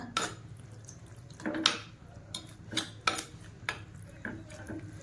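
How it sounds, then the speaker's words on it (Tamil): Cooked brinjal being mashed with a wooden masher (mattu) in a pot, heard as scattered soft knocks and squelchy clacks in an irregular rhythm, close and fairly faint, without speech. "நான் இந்த மாதிரி மத்து எடுத்துருக்கேன். இதை வச்சு நல்லா கடைஞ்சிக்கோங்க"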